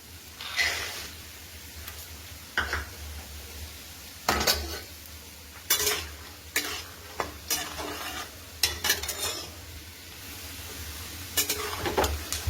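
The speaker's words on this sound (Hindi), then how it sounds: "मूंगफली को हम क्रंची होने तक भूनेंगे" Peanuts roasting in oil in a kadhai, a low sizzle under repeated sharp metallic scrapes and clinks of a spoon stirring against the pan, irregular and close, with no voices.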